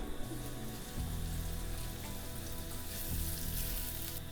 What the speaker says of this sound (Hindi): तेल ऐड करेंगे, 1/4 कप प्याज ऐड कर देंगे